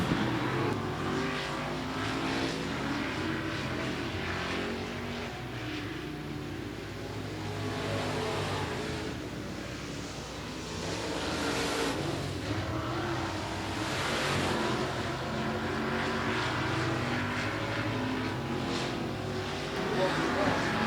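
Race cars roar around the oval at Golden Triangle Raceway Park, a continuous loud engine drone rising and falling as the field runs through the turns, with a commentator talking over it throughout.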